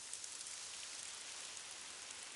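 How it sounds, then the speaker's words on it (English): Heavy rain pours steadily on a city street, a dense, even hiss with no voices. "a pink-faced young driver stood getting steadily wetter in the now pouring rain"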